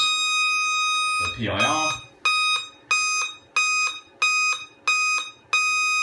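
Scantronic 9200 alarm panel sounding its exit tone, a steady high electronic beep that breaks into regular pulsed bleeps roughly every half second, with a brief burst of speech near the start.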